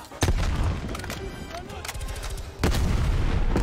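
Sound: grenade explosions and gunfire in video game Black Ops Cold War

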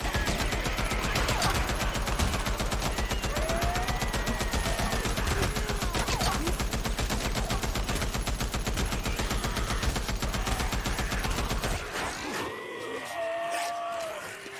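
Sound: gunfire from a video game

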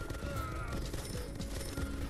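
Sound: anti-air turrets firing in video game Mastermind World Conqueror

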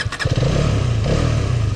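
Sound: Hero Karizma XMR 2024 motorcycle engine

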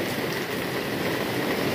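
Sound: rain falling

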